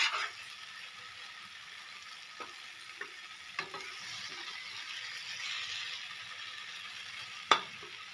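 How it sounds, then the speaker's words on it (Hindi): Aubergine curry simmers uncovered in a pan, giving a soft, steady sizzle with occasional sharp clicks and taps as it is stirred now and then, no voices. "हम इसे दो तीन मिनट ऐसे ही खुला पकने देंगे और इसे बीच बीच में चलाते रहिएगा।"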